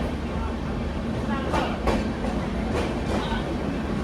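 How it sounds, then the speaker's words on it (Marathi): A fast passenger train runs near Bhubaneswar, heard from a coach just behind the locomotive. A constant heavy rumble carries a few sharp clickety-clack wheel beats over the rail joints. "या ठिकाणी आपली ट्रेन फार स्पीडनं चालली आहे"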